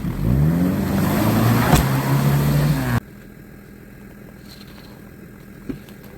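Isuzu Trooper stuck in snow, engine revving hard with a loud, sustained, rising drone for about three seconds, then cutting off to a quiet idle with a faint click near the end.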